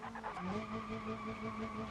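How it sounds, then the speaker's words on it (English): In the BeamNG.drive driving game, a stock car with a boosted engine spins its wheels, producing a sustained tire squeal with a droning engine underneath, moderately loud and continuous. "Okay, so lots of wheel spin."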